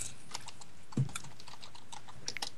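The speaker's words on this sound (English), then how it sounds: "I was typing stuff in." Computer keyboard typing during a Minecraft game, a sparse run of light, quiet clicks with one heavier thump near the start, heard alone over a faint background.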